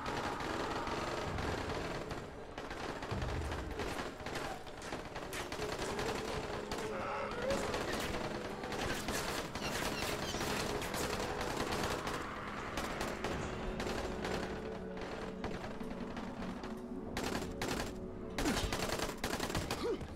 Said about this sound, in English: Can you stop shooting? You're making so much noise.